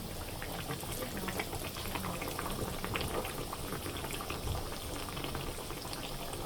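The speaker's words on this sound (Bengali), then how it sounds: "তেলটা গরম হয়ে গেছে, মাছটা ছেড়ে দিলাম।" Two pieces of spicy crispy tilapia fry in hot oil with a dense, steady, hissing bubble that stays even and moderately loud throughout, with no voices.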